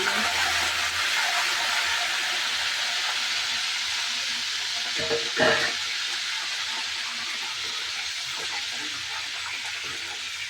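Curry leaves fry in hot oil in a home kitchen, a continuous broad sizzle and hiss that stays steady throughout, with a brief louder crackle near the middle.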